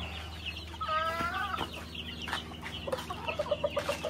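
Young pet chicks chirp in quick high peeps, with a short run of rapid repeated calls near the end, close by and fairly clear over a low steady background hum.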